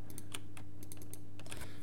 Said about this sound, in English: I'm gonna click and shift double click